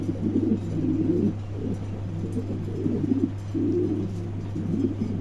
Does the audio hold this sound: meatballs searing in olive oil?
no